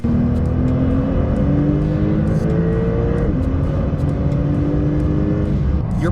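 A Porsche 911 Turbo S accelerating hard, heard from inside the car as a loud, continuous engine drone. Rising tones climb steadily, then drop briefly at a gear change and climb again, with no talking.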